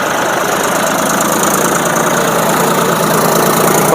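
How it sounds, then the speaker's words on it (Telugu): A new 2025 John Deere 5050 D 4WD tractor idles up close, its engine making a loud, steady diesel chug with even knocking pulses and no pause or talk throughout. "ఇగో ఇది మన కొత్త ట్రాక్టర్ వ్యూ ఎట్టున్నది,"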